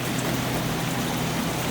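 Steady rain falls outdoors by a porch, a dense, even hiss of drops with no breaks and no voices.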